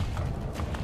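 Horse hooves clip-clop in the video game Assassin's Creed Brotherhood, a quick rhythmic series of close hoofbeats over a low rumbling game soundscape.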